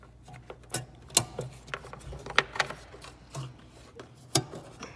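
An LED bulb adapter twists and locks into the headlight housing of an Infiniti G37, giving a series of small plastic clicks, scrapes and rubbing sounds at close range, irregular and fairly quiet.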